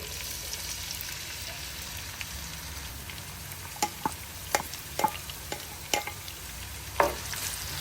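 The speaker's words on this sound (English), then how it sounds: "Just going to let the onions to cook a little bit so that it can release all the aroma." Onions frying in oil in a very hot pan: a steady, moderate sizzle with a few sharp pops and crackles scattered through it, with no talking.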